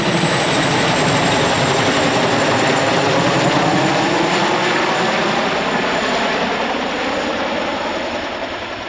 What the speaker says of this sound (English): we wondered why a helicopter was flying around this field